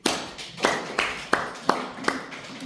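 A church congregation claps in unison, giving seven or so sharp, evenly spaced beats at a brisk steady tempo over a faint background murmur.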